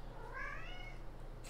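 A single cat meow rises and falls close by, standing out clearly over a low steady hum in the room.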